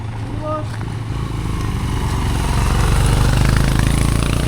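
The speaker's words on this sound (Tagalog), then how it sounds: "Uy, motor." A motorcycle engine drones close by at a building-materials delivery site, growing steadily louder and nearer as it passes, with a person speaking briefly near the start.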